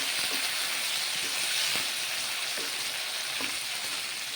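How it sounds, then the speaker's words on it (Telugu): Brinjal pieces frying on a low flame for a curry: a steady, soft oil hiss and sizzle with faint stirring ticks underneath, continuous throughout. "సిమ్ములో వేపుకుందామండి"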